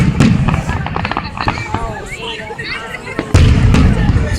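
Fireworks bursting outdoors with repeated loud pops and crackles, including a big boom near the end, as people talk and shout in the background.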